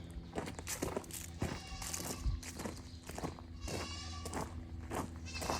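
Goats on a farm bleating at morning feeding time, several repeated calls over steady shuffling footsteps close by.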